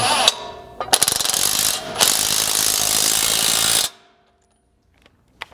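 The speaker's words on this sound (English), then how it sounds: "grab your 27mm socket again and tighten up this main mounting bolt" Ratchet wrench with a 27mm socket tightening the main mounting bolt of a rear shock skid plate on a Ford Bronco, a loud close run of fast clicking bursts for several seconds, then quiet with a few faint taps.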